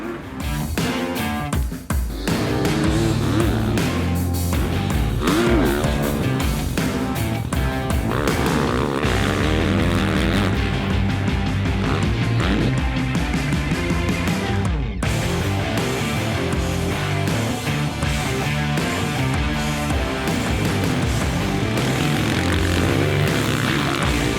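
Dirt bike ridden off-road during a test of Gaerne SG12 motocross boots, the engine droning loud and steady throughout with rising and falling revs and brief throttle changes, close to the rider, no voices.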